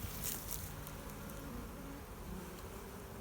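Honeybees buzzing around an open, queenless hive during drone trapping, a steady, close, moderately loud hum of many wings with no pauses.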